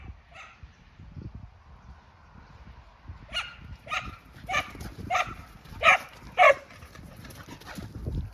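Several dogs bark in a burst of sharp, loud yaps and woofs midway, with fainter yips early, outdoors at a rural dog training site with goats nearby.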